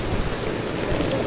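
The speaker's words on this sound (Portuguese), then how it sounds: "É chuva, viu?" A heavy downpour during flooding in Recife, Pernambuco roars as a thick, constant wash of rain hammering nearby surfaces, loud and continuous, with no one speaking.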